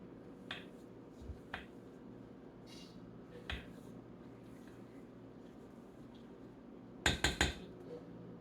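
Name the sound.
mixing biscuit dough in a bowl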